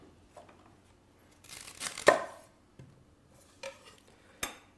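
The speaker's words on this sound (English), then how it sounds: "So I'm just going to remove the stalks." A knife cuts the stalks away from fresh white fennel bulbs on a board: a few quiet, crisp slicing crunches, one stronger cut followed by sparse lighter taps and snaps, close by with no talking.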